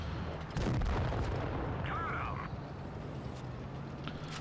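Tank cannon shots in World of Tanks Blitz, with a heavy boom early on followed by a sustained rumbling barrage at moderate loudness.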